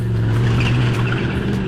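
A Ford Mustang GT race car lapping the Barcelona circuit, its engine a loud, steady droning roar held at high revs with a strong low tone throughout, close and continuous.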